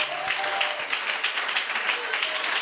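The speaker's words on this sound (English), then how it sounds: "Give the Lord a mighty clap." Applause from a church congregation, a soft, even wash of clapping that stays steady and fairly distant, with faint voices mixed in underneath.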